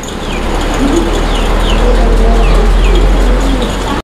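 Pigeons coo repeatedly at a pigeon farm, soft rolling low calls recurring every second or so, close and loud over a constant background hum, with a few faint higher chirps from other birds.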